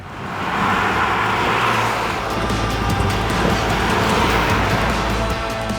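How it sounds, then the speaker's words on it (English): A BMW X1 SUV underway, its engine and road noise forming a steady, loud broadband roar that builds over the first second and holds throughout. "it's the X1 that's actually quieter of the two. And it's also got, if you can hear it, a more pleasing sound."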